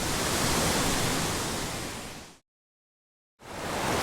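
A wilderness waterfall on a creek, heard from just above its top, gives off a dense, steady roaring rush that cuts to about a second of total silence before resuming.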